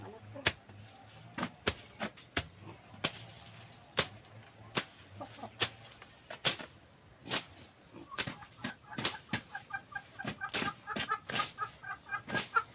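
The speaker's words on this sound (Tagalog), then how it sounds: "Ay, ang manok." Chickens cluck around a backyard coop and hut, with sharp, repeated calls scattered through the clip at close to moderate distance, some overlapping in quick bursts toward the end.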